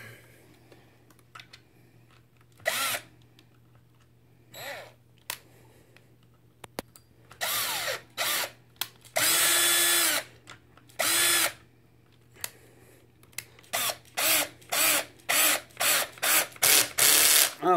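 A power drill whirs in repeated bursts while tightening the slipper clutch on a Traxxas X-Maxx, building to a rapid series of short, clattering clutch-slip pulses near the end, loud and close.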